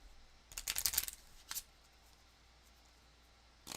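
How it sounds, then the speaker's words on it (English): A Gloomhaven: Jaws of the Lion game card deck is shuffled by hand: a quick, close run of papery riffling lasting about a second, followed by one short final flick, then near silence. "So we're going to shuffle this up."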